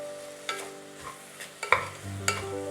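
Mutton biryani masala sautéed in a pan, with a few soft stirring scrapes and a low, steady sizzle close by. No one speaks.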